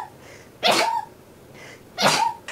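Two sharp sneezes about a second and a half apart, loud and close, with quiet breathing between them.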